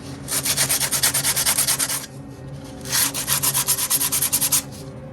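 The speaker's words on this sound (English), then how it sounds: "we're going to start smoothing out the putty on the hull." Putty being sanded smooth on a model ship hull, the S.S. Poseidon: close, steady back-and-forth rubbing strokes in two bursts, with a short pause between them.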